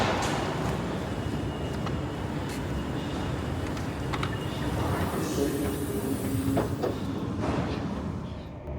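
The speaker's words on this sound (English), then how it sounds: "I'm going to board this train that's right here" A passenger train runs on the rails heard from on board, with a steady loud rumble and rolling wheel noise, faint rhythmic clicks and a few brief higher squeaks over nearly nine seconds.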